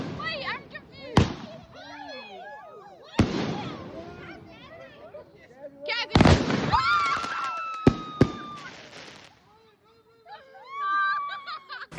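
Fireworks set off by a rural family, several sharp booms and crackling bursts with whistling streaks, mixed with laughter and chatter between blasts.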